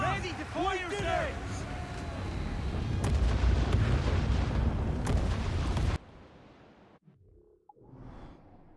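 Ship cannons fire in the pirate video game Assassin's Creed IV: Black Flag, heavy rumbling booms and crackling blasts layered under shouting voices, then the barrage cuts off abruptly into quieter ambience near the end.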